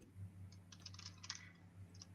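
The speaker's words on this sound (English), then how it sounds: "I was in the middle of typing your fun fact" Quick, irregular keystrokes tap on a computer keyboard, faint and close, over a steady low electrical hum in a quiet room.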